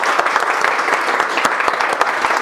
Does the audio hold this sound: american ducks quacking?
no